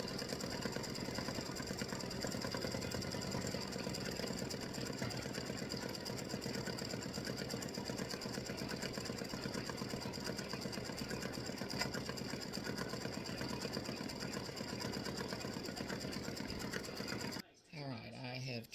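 An embroidery machine stitches a Halloween witch design, working the nose in pale skin-colored thread, with a steady, fast mechanical whir that runs nearly unbroken before cutting off abruptly near the end.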